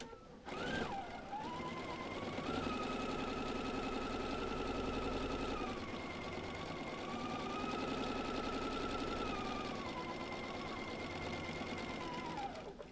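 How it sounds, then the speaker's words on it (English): A sewing machine runs in steady bursts, its motor whirring and needle clattering rapidly, pausing briefly before stitching again; close and fairly loud, no talking. "Now I'm going to go to my sewing machine and sew the scant quarter of an inch"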